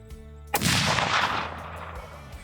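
A single sharp, loud rifle shot at a fallow deer in an Australian state forest, cracking suddenly and rolling into a long, fading echo across the woods.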